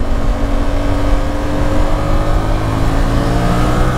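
A Yamaha Tracer 7 motorcycle with an Akrapovic exhaust pulls through third and fourth gear while merging onto a ring road, a loud, continuous engine drone under heavy rushing wind.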